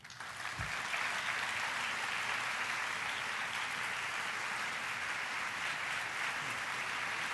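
A symposium audience breaks into warm, sustained applause welcoming consumer advocate Ralph Nader, dense steady clapping that swells within a second and holds evenly, filling the hall.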